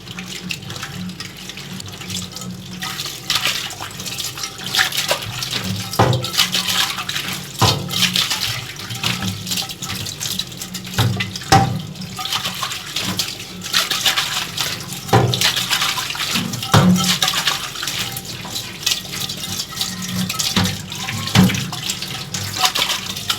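Tap water runs steadily into a sink while an item is rinsed of soap, a continuous close splashing stream broken by occasional clinks and knocks.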